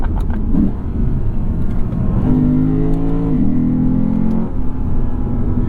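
A 2023 Lexus RC F V8 accelerating on an open road, the engine note rising through a gear with a strong, rumbling drone that climbs in pitch, shifts briefly and pulls again, loud and close from inside the car.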